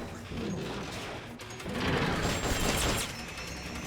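Gunfire shooting at mines in Metal Gear Solid: Peace Walker, a rapid stream of mechanical shots and crashes that grows louder and denser midway, with metallic clatter over a constant game background.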